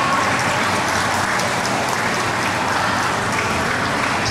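An audience claps to welcome a performer onto the stage at a Thai school event. The applause is a dense, continuous roar of many hands, loud and unbroken, like heavy rain, with no voices on top.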